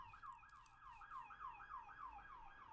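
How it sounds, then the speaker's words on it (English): A distant emergency vehicle siren wails in a steady, rapidly repeating up-and-down sweep as it passes, faint against quiet background noise. "You hear that siren?"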